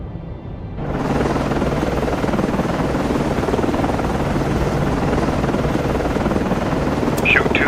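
Naval helicopter launching in the submarine game Cold Waters: a steady, loud rotor roar swelling in after a moment and holding throughout, with a faint radio-style voice near the end.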